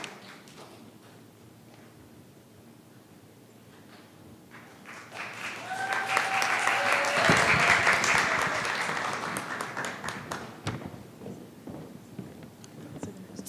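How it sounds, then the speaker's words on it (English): Open-mic audience applause that starts as scattered clapping, swells to a full round with a few whoops, then slowly tapers off. "Give her a round of applause."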